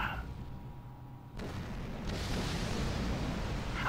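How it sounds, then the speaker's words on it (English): A hatch is blown open by an explosion in the space game X3 Terran Conflict: a sudden loud burst gives way to a rumbling, roaring wash that swells and holds for several seconds. "Blowing hatch."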